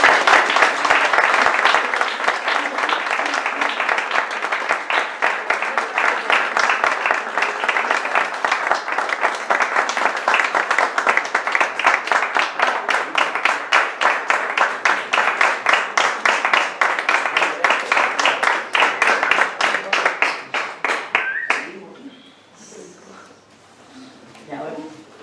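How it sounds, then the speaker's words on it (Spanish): Sustained audience applause fills a tribute ceremony honoring a retired figure, loud and steady for about twenty seconds before cutting off abruptly, followed by faint room noise and a few quiet voices. "Un fuerte aplauso para Antonino."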